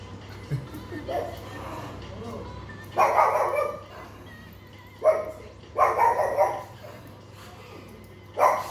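A noisy female dog barks in short bursts, several loud barks clustered at irregular intervals with quieter whimpering sounds and faint voices between them.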